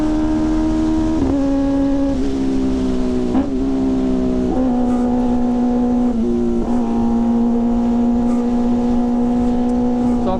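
A Yamaha R25 motorcycle engine drones loudly and steadily while riding, its pitch rising and dropping several times through gear changes, with no voices heard.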